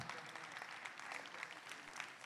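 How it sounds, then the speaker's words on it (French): Faint, steady applause from an audience greeting five finalists at a tattoo expo awards ceremony, a soft continuous patter heard from a distance with no voices over it. "les 5 finalistes, on peut les applaudir"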